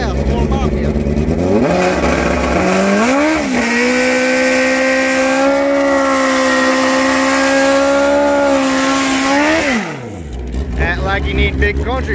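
A nitrous and turbocharged Suzuki Hayabusa drag bike makes its first pass at a drag strip. The engine revs sharply, holds a loud, sustained high roar for several seconds, then drops off abruptly, with voices faintly around it.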